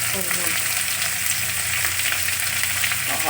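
Onions fry in a pan for a fish dish, a dense continuous sizzle with faint stirring clinks, steady and close.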